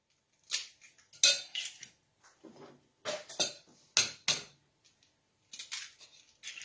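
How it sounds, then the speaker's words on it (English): Three eggs and a dash of salt whisked together in a bowl for a golden shrimp casserole, the utensil clinking sharply against the bowl in short, irregular bursts with brief pauses between. "Blend the eggs and the seasoning together."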